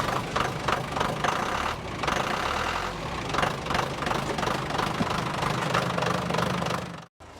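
A tractor's diesel engine, preheated after a hard-starting problem, runs with a steady, loud, knocking chug for about seven seconds, then cuts off abruptly near the end.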